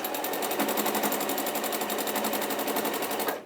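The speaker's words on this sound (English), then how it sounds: "you're stitching in the ditch here, basically. And you go all the way around the outside edge" A sewing machine stitches in the ditch around the outside edge of a quilt, running in a fast, even, continuous rattle of needle strokes, close and steady before stopping at the end.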